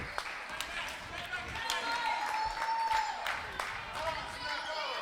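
Basketball crowd at Jerry Savage Court in a Loyola Blakefield versus St. Frances Academy varsity game, clapping and cheering steadily with sharp claps and shouts poking through, loud and continuous over the full stretch.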